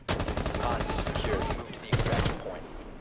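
Automatic gunfire in Rainbow Six Siege Terrorist Hunt, loud rapid bursts of shots that fill the first moments, break briefly, then return in a second short burst.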